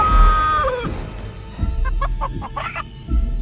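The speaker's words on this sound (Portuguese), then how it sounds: "Aí, lá, cacarejando, quer me bicar, tá cacarejando!" Video game chicken from Chicken Feet clucking and squawking loudly in short, choppy bursts, with a rising squawk at the start followed by a series of rapid clucks.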